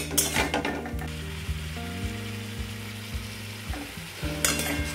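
A spoon stirs papaya curry in a pan, giving soft repeated scraping knocks at a steady rhythm over a faint sizzle, close and fairly quiet.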